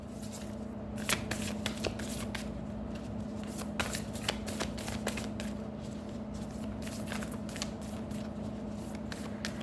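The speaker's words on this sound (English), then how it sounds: "let's pull out one more card for you" Tarot cards being shuffled by hand, a steady run of quick, crisp riffling snaps and flicks, close and fairly quiet over a low steady hum, with no talking.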